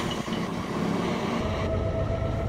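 A steady rumbling of a train rolling past on a main line in a video game, loud and continuous, with no voices.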